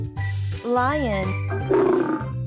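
A voice imitates a lion's roar, a single growling, rising and falling call of about two seconds with a loud harmonic sweep, close and clear, with no other sound.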